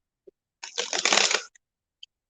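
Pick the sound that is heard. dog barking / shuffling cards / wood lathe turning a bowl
shuffling cards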